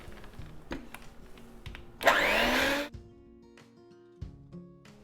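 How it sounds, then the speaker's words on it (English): An electric mixer briefly whirs at high speed for just under a second, whisking wet babka batter of melted butter and vanilla paste, with light bowl clicks and taps before and after. "And whisk it up once more with your electric mixer."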